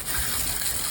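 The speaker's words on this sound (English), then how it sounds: "Turn the water on." Water gushes from a garden hose just turned on, a brief loud hiss of spray, steady for under a second with no voices.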